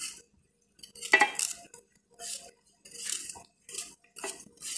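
Bell pepper pieces dropping into a metal cooking pot of mocotó: several short clinks and scrapes of utensil against pot, in separate bursts with quiet gaps.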